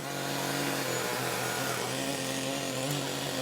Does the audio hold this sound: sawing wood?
yes